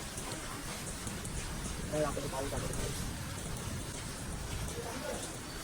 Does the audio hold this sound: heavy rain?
yes